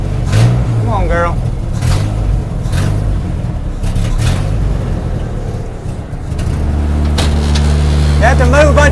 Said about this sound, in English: Can't get over how well it's idling and running.